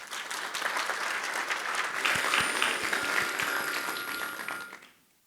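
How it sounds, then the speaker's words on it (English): An audience at a medical talk on a new class of pain molecules applauds for about five seconds, a steady dense clapping with a few sharp claps standing out, before it quickly fades to silence. "So Roberto, well-deserved round of applause."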